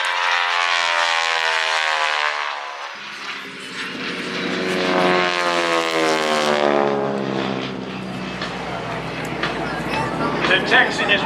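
Two North American SNJ Texan warbirds built in 1942 and 1943 fly at an airshow, their loud radial propeller engines droning and shifting in pitch as they pass, while an announcer talks over the sound.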